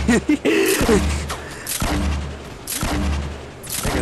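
Gunshots in a video game car chase ring out as several loud, sharp bursts spread over a few seconds, with a low engine-like drone underneath.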